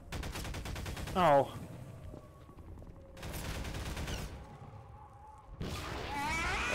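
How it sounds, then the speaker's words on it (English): Gunfire in Garry's Mod during a custom Half-Life 2 campaign, bursts of rapid shots in separate stretches with a brief voice exclamation in between. "There's something shooting at me."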